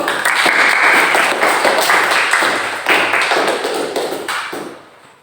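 A classroom audience applauds a student group after its presentation, a dense, steady burst of clapping from many hands that holds loudly for about four seconds before trailing off.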